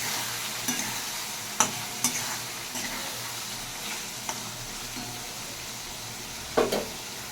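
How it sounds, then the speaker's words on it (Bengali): Spiced paste with tomato sautéed in oil in a pan, stirred with a steady low sizzle and a few sharper scraping clinks of the spatula, no voices. "মশলাটা ভালো করে কষিয়ে নিচ্ছি।"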